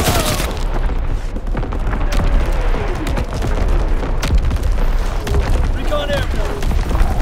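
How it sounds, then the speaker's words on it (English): Incoming artillery explodes in the Call of Duty: WWII game, with loud booming blasts and rumbling debris over a dense wartime battle din, mixed with shouted voices. "Incoming enemy artillery!"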